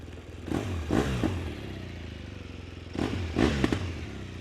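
A 2016 BMW R1200R shaft-drive motorcycle engine rumbles close by at a steady idle, with a few short throttle blips punctuating the low throb.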